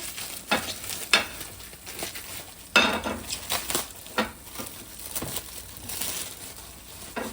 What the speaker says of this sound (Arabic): هسه حبايب نبدي نخلي هذا الستيك اللي هو عباره عن شرائح خفيفه